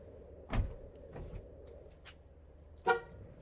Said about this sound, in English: So make sure that you have nothing in the way before closing the door.